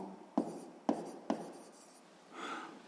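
A pen writes on paper during a sixth-grade maths exercise, with three sharp taps at a steady pace followed by a softer scratching stroke, quiet and close.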